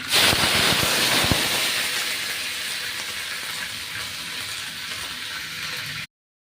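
Ground paste of two and a half onions hitting hot oil: a loud burst of crackling sizzle with a few sharp pops at first, then a steady, slowly easing hiss up close until it stops.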